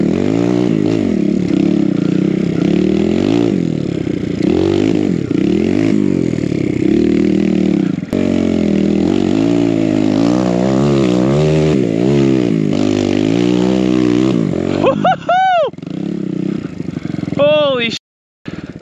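A BBR KLX170RF dirt bike engine revs and drones continuously through a snowy winter climb, rising and falling with throttle, someone talking over it throughout and sharp whining sweeps near the end.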